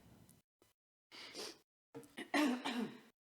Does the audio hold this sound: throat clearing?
yes